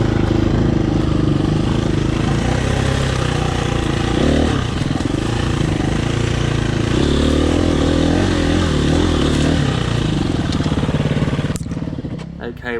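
A KTM 350 enduro motorcycle crawls along a dirt trail held in first gear, its engine a loud, steady low-pitched chug with slight throttle swells and some clatter, fading a little at the very end.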